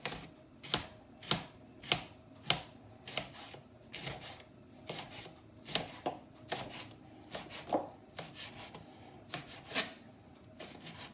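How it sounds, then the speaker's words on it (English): A sharp knife slicing beef thinly onto a cutting board, a series of regular crisp strokes about every half second, close and clear, no talking. "you need to slice your meat as thinly as you possibly can"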